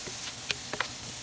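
A spoon stirs and coats food in a hot pan, making a few light clicks and scrapes against the metal over a soft, steady sizzle.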